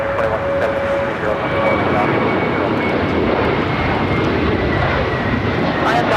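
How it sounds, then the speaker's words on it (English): An American Airlines Airbus A321 in U.S. Airways retro livery takes off from LAX, a steady, loud jet engine roar that holds throughout with little change, with faint talk underneath. "This is American Airlines 1657 taking off to Dallas-Fort Worth on the A321"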